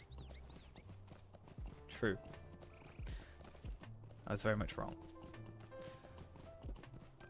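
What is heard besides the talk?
elk mount hoofbeats in video game Lord of the Rings Online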